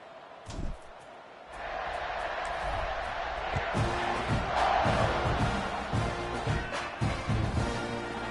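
A stadium crowd roars at the kickoff of a college football video game against Ole Miss. A steady, loud wash of cheering fills the whole stretch, with scattered thuds and shouts within it and no clear speech.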